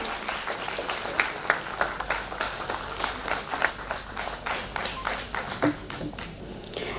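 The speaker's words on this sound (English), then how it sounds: "Please welcome them with a big round of applause." Audience applause welcoming guests onto the stage at a concert launch event, steady sustained clapping from a crowd with sharp individual claps standing out, continuous for several seconds with no talking.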